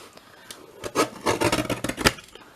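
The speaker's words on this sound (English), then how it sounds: "I'm just gonna cut that down just so it looks a little bit tidier" Scissors or a blade cut card down to size for a handmade gift card holder, a close series of short scraping, rasping strokes in an uneven rhythm.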